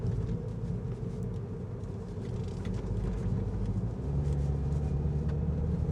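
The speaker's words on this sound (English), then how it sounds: "Given that these tires are all-season, you can expect a little bit more road noise, but I really don't find it too bad inside the cabin of this car." Steady low road and tire rumble inside the cabin of a MINI Cooper S on all-season tires, a continuous drone that thickens slightly near the end, with no talking.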